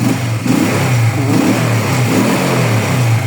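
A car engine runs close by with a steady mid-pitched rumble, rising in a few brief revs before settling back, with no talking.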